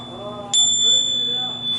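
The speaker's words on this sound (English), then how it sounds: "And then a lovely bell, it looks like" An old metal bell found while metal detecting is struck once, giving a single clear ring with a pure sustained tone that lingers and slowly fades. It is close and fairly loud, over a low background hum.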